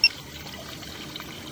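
Water running through an underground sewer line of ABS and PVC pipe, a faint continuous trickle and pour with a small splash at the start.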